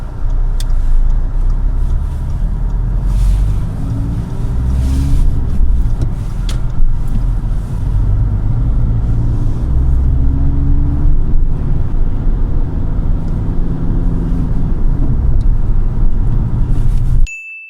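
A car being driven on public roads during a driving test: a steady, close engine and road hum with gentle swells as speed changes, plus a short tone near the end.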